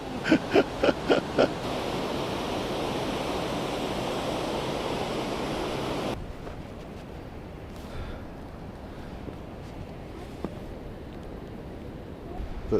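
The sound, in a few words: Hunza and Nagar rivers flowing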